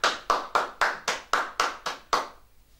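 Clapping in praise at a worship service: about nine sharp, evenly spaced claps in a steady rhythm, close and clear, then silence.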